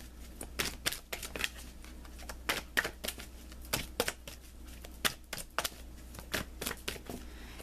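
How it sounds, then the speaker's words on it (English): Tarot cards being shuffled and drawn from a deck, a run of crisp riffling flicks and soft papery slaps in an uneven rhythm, close and fairly quiet over a low steady hum. "Let me pull you an additional guidance card."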